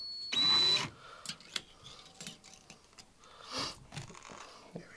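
An electric drill spinning a magnet spinner gives a short, loud whir at the start, followed by scattered clicks and light knocks as the handmade toy is handled.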